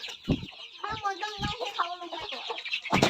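Several free-range village chickens cluck and squawk close by at feeding time in a busy, overlapping chorus, with sharp calls rising at intervals.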